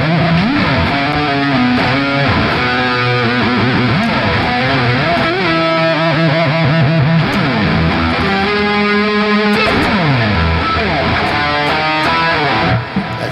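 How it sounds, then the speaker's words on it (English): Electric guitar run through a distortion effect in Guitar Rig 5 software, with a thick, sustained, singing overdriven tone playing chords and bends continuously and loudly throughout, with no talking over it. "Distortion sound, you know?"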